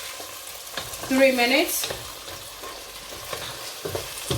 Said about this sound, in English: I'll be adding the mixed veg next, and I will allow it to fry for about